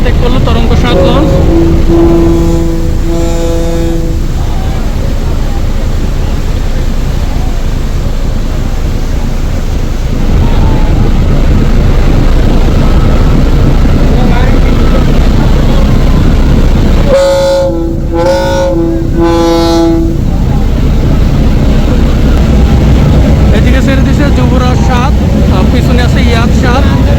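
Passenger launch Taranga 7 leaving the ghat at Charmonai on a river, sounding loud tooting horn blasts early and again later over a steady rumble, with a voice commentating throughout.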